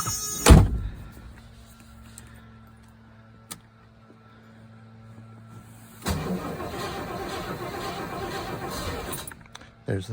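A 1984 Rolls-Royce Silver Spirit is cold started: a loud thunk, a quiet pause, then the engine turns over and catches into a steady close idle.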